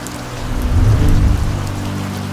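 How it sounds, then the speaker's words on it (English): Rain falls over mountainous land in Mpumalanga with a low thunder rumble swelling and fading beneath a steady hiss of rain. "Rain is considered a gift from the heavens."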